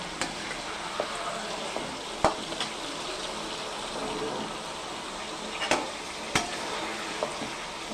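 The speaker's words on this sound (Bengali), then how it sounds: "মাংসটা অনেকটা ভাজা হয়েছে, আমরা আলুটাও দিয়ে দিচ্ছি। আলুটাও ভালো করে ভেজে নেব।" Chicken pieces and potatoes frying together in a pan for a home chicken curry, a steady close sizzle with occasional sharp clinks and scrapes of stirring, no talk.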